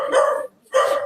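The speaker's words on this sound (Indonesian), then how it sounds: "Iya, ini ada guguk yang bunyi nih Bang." A dog barks twice, two loud, close, full barks separated by a short pause, with no talking over them.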